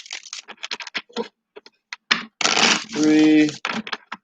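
Rapid papery riffling and clicking bursts of cards being shuffled up close, in several short runs with brief pauses, plus a moment of voiced sound midway.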